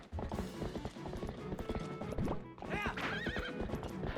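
Horse hooves clip-clop at a gallop in Zelda: Twilight Princess HD, with a loud whinny and neigh near the end, steady rhythmic hoofbeats throughout.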